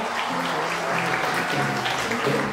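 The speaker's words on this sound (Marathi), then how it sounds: "तर तिच्यासाठी एकदा जोरदार टाळ्या द्यायचे आपल्याला." An audience at a realty firm's anniversary celebration and lucky draw claps for a prize winner, dense steady applause filling the room, with some voices murmuring underneath.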